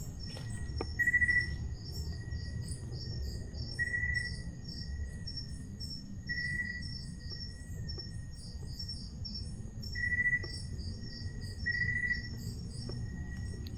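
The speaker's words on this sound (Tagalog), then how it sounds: "Palakas yung tunog ng kuliglig." Crickets chirp in short repeated bursts over a low background hum, fairly faint and spaced a couple of seconds apart, in a forest at night.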